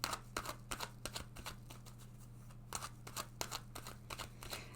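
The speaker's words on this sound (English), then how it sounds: "Let's take another card for them." A tarot deck is handled and a card drawn during a love reading: a close run of crisp, papery flicks and snaps in irregular bursts, pausing briefly midway, over a steady low electrical hum with no talking.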